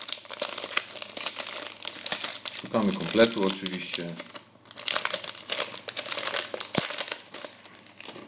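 Foil wrappers of Panini Germany team card packets crinkle and tear in close, bursty handfuls, with a pause in the middle, while someone talks in Polish over the rustling.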